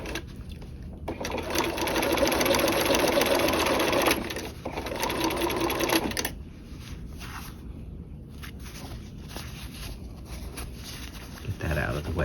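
Sewing machine running a standard 2.5 stitch along a dual flap pocket seam, a rapid whirring burst of about five seconds, a pause, then a shorter run, with quiet handling noises after.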